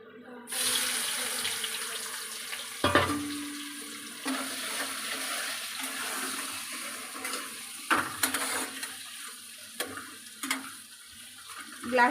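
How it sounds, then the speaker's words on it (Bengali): Chopped onion hits a hot pan after a whole cardamom pod and starts to fry, giving a loud, steady sizzle close by. Scattered clatters and stirring knocks break into the sizzle now and then. "এবারে এই কুচনো পেঁয়াজটা আমি দিয়ে দেব"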